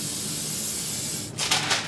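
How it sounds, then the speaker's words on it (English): Cooking spray hisses into a cake pan in a short burst of close, loud bursts, sputtering after a steady background hiss. "I'm gonna spray in my pan."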